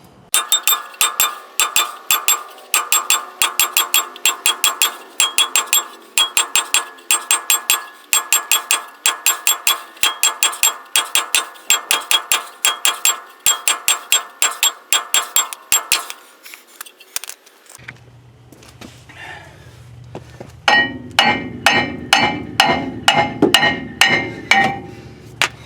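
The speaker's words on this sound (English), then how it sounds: "I am using a brass hammer" A brass hammer strikes a brake rotor in a fast, steady rhythm of ringing clanks, pausing briefly before resuming with heavier, deeper blows.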